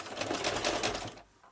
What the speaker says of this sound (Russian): Строчим по нашим нарисованным линиям.